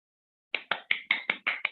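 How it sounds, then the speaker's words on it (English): A small group at a school board meeting claps for students, seven quick, evenly spaced claps in a rhythmic pattern, close and crisp after a short silence. "Let's give them a Valentine clap."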